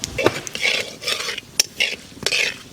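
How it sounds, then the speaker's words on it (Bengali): Whole cumin seeds, bay leaf and dried red chilies tempering in hot oil in a pan for a hilsa fish curry, with stirring scrapes and light clinks of a utensil against the pan, close and moderately loud. "ফোড়ন দেবো জিরে তেজপাতা শুকনো লঙ্কা"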